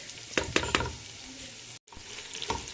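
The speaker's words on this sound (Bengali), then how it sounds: "পেঁয়াজটা আমি ভেজে নিচ্ছি" Onions frying in hot oil, destined for a beef tehari, with a steady sizzle and a few sharp stirring scrapes near the start, a brief dropout midway, then sizzling resumes.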